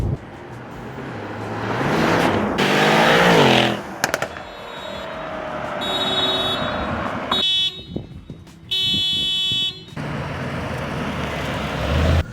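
A Mercedes RENNtech E63 S engine revs and accelerates hard, a loud rising roar that swells and shifts pitch several times and then drops away, mixed with road and cabin noise.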